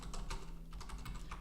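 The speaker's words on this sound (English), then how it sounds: "I'm gonna be typing in" Password being typed on a computer keyboard, a quick run of close, crisp key clicks over a steady low hum.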